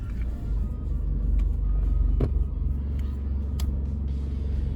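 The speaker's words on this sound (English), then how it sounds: "I'm assuming the vibes are coming from a broken motor mount." A 2006 Toyota Corolla with a likely broken motor mount gives off a steady low rumble and vibration from inside the cabin, a continuous drone with a few faint clicks and knocks and no speech.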